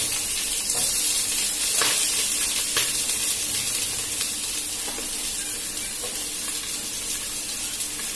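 Green chillies and onion frying in hot oil in a pan, a steady, fairly soft sizzle with occasional stirring scrapes and crackles, no talking.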